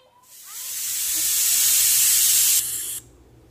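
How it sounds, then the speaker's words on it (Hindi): Steam hisses loudly and steadily from a kitchen pressure cooker holding khichdi and kadhi, swelling over a couple of seconds, holding, then cutting off abruptly, with no voices. "कुकर की विसल पड़ रही है,"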